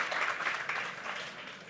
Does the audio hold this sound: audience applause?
yes